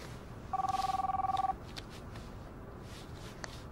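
A mobile phone rings close by with a fast, trilling electronic tone lasting about a second over a hissy background, then falls silent.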